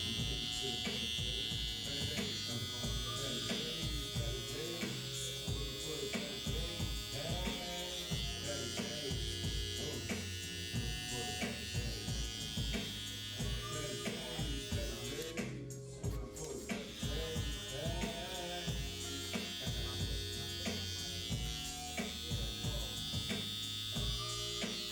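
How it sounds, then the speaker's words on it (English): Electric hair shaver buzzing steadily and close throughout a taper haircut, with a constant high whine and brief dips in pitch as it moves over the head. "Now this is my favorite shaver, and mostly because it doesn't irritate people as much as the other ones."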